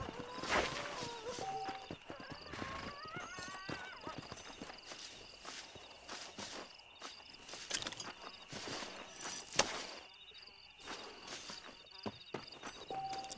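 Horse hooves clip-clopping in Red Dead Redemption, steady close footfalls at a walking pace with a snort or whinny, faint jangling tack, and occasional speech in the background.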